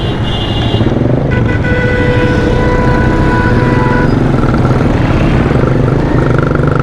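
A motorcycle rides along Akbar Road with a steady, loud engine drone and road rumble throughout, joined by passing traffic and a few horn-like tones in the middle.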